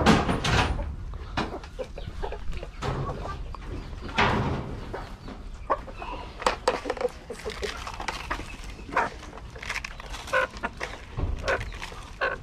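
Backyard chickens clucking and scratching while being fed, close and busy with repeated short clucks and pecking clatter throughout, with a little faint talk.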